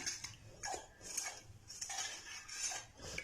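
Spoon clinking against a bowl while ghee, water and salt are stirred together, quick repeated metallic taps and scrapes, close and fairly quiet.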